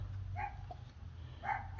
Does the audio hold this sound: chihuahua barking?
yes